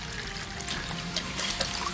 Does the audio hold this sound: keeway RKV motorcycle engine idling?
no